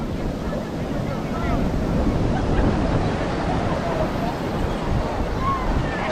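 Sea waves wash in continuously on Puri beach in Odisha, a broad, rushing surf mixed with wind buffeting the microphone, heard up close.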